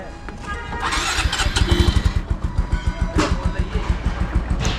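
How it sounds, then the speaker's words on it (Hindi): Motorcycle parked in freezing, snowy mountain conditions cranks and fires up, its engine sputtering in a rapid loud chugging rhythm before dying out; close and loud. "फिलहाल तो बाइक स्टार्ट हो गई फिर बंद हो गई है"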